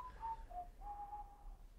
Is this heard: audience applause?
no